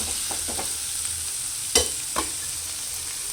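Onions and tomato fry in a pan with a steady soft sizzle, and a spoon scrapes and stirs now and then, giving two sharper knocks late in the stretch.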